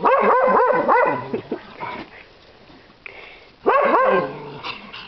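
A neighbor's dog barks and yips in short excited bursts, with whimpering sounds between, fairly close and loud, no talking.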